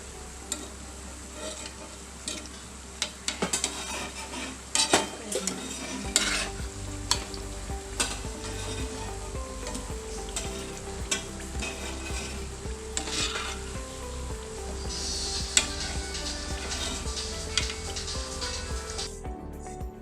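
Stuffed ripe banana coated in breadcrumbs frying in hot oil, a steady sizzle with scattered light scrapes and clinks as it is stirred in the pan, continuous and close with no talk.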